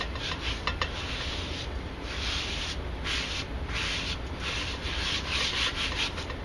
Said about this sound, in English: Take my hand, rub it through.